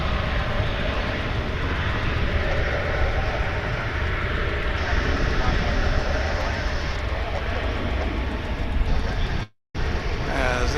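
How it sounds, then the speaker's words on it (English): An American Airlines Airbus A319 touching down at Dallas/Fort Worth International Airport gives a sustained jet engine roar and rumble, steady and fairly loud, with brief silence near the end and a voice talking over it. "This American Airlines flight 1924 coming in from Querétaro in Mexico. A319"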